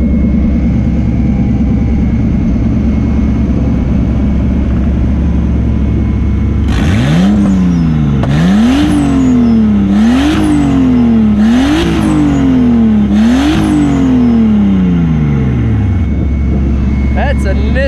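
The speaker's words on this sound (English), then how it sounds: "That's a Nissan Skyline motor." A Nissan Skyline engine in a Datsun RBS13 idles loudly up close, then gets five sharp rev blips in quick succession, each climbing and falling back before settling into a steady idle.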